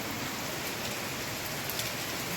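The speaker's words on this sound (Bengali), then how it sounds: "মাঝে মাঝে বৃষ্টিটা জোর হচ্ছে না, জল পুরো স্রোতের মতো করে বয়ে যাচ্ছে" Heavy rain pours down steadily as a dense, even hiss of countless drops hitting surfaces, loud and unbroken from start to end with no voices.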